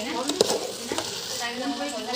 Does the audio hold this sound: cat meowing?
no